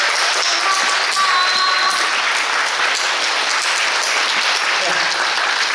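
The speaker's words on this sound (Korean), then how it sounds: "다 같이 박수 한번 드리는 게 어떨까 싶습니다" An audience at a musical's curtain-call stage greeting claps steadily for the staff, a dense, even wash of applause lasting the full six seconds without letup.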